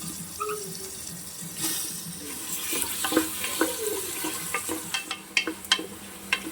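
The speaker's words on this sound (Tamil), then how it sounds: "அதுக்குள்ளே நான் போய் சிக்கன் கழுவிட்டு வந்துடுறேன்." Tap water runs while raw chicken is washed in a home kitchen during cooking, a soft continuous splashing with scattered clinks and bursts of louder spatter toward the end.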